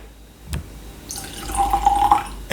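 Water poured into a glass of seven-year-old Arran Sherry Cask whisky, a short close trickle and splash after a single drip, quiet and alone.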